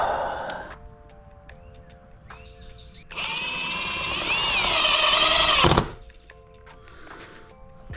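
A power drill drives screws into a wooden double swing gate during carpentry, with a loud whirring run lasting a few seconds nearby, set between quieter clunks and tool handling sounds.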